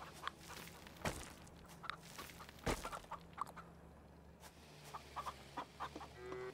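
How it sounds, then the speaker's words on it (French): Chickens cluck softly in the farming video game Farm Together 2, scattered short clucks and a few clicks over a low steady background hum, quiet and without speech. "Bon, allez, c'est des poules de luxe."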